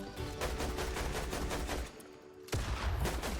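A string of gunshots fired in the video game Fortnite, irregular cracks in quick succession, then a brief lull before more shots.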